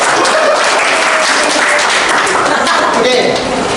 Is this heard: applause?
yes